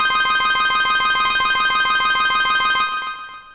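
Synthesized lead sound from Ableton Operator for a dubstep track: a loud, bright, buzzy sustained synth tone with a rapid pulsing rhythm, playing alone and fading out at the end.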